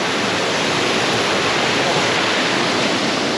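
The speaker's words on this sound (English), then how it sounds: "Look at the water coming off of the mountain." Water pouring down off a mountainside, a loud, steady broadband rush with no breaks, heard close up and alone.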